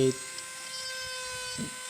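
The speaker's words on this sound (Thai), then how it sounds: "ต่อไปเราก็ใช้สว่านแกะตามรอยเลยครับตามที่เราวาดไว้" A rotary drill carves a wooden knife handle shaped as a hermit figure, giving a steady, high motor whine that runs unbroken and fairly close throughout.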